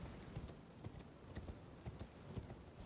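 Horse hooves gallop in Elden Ring on the Altus Plateau, a steady rapid clip-clop rhythm of soft thuds repeating evenly throughout at moderate loudness.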